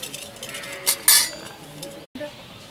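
Roasted almonds are scooped out of a pan into a bowl during a poha chivda recipe, with a few metallic clinks and scrapes of a spoon against the pan, a bright clatter near the middle, over a quiet room hiss.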